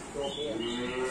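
Cattle low steadily at a livestock dealer's yard, one sustained moo filling the short stretch, close and fairly loud with a faint murmur of background noise.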